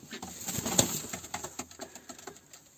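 A young pet pigeon coos close by in a quick run of soft, pulsing throaty notes that fade gradually, alone with no talking.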